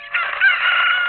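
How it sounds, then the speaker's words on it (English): A rooster crows in the video game Ocarina of Time, a single loud, sustained cock-a-doodle-doo with no talk over it. "I'm gonna start getting the chickens down here"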